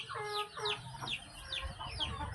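Several chickens clucking and calling in a busy, continuous chorus, fairly close, with overlapping short calls throughout.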